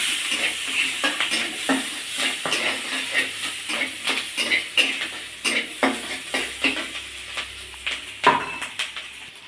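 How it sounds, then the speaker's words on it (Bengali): Onions fry in a pan while a spatula scrapes and stirs in a steady, repeated rhythm over a continuous sizzle, close and clear with no talk. "পেঁয়াজটা ভাজা ভাজা হয়ে গেছে"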